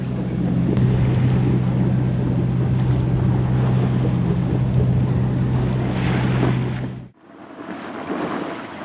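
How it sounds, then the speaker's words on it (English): A sailing boat motors under engine in the Ionian Sea, its steady low drone close and constant, mixed with wind buffeting the microphone and waves washing by, before a sudden brief dropout and a return of the rumble. "now we are just running on engine because it's still 10 miles"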